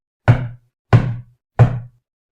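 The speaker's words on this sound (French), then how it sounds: "avec un zèle incommensurable, frappa à la porte." Three firm, evenly spaced knocks land on an office door, each a close, sharp rap with a short wooden resonance, separated by clean silence.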